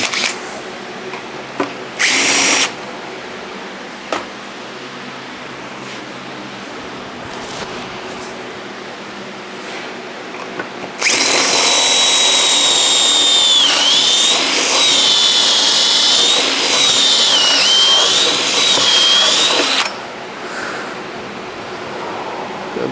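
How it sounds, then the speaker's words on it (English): A power drill whines loudly and steadily for about nine seconds after a couple of short bursts, its pitch wavering slightly as a somewhat dull bit bores. "Get my drill set up."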